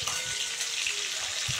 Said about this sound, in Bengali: মাছ ভাজা হয়ে গেছে। আমি খুব কড়া করে ভাজিনি